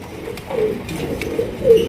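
A pair of white Rajgolla pigeons coos softly and repeatedly at close range, several low rolling calls spaced through a short stretch with no talking.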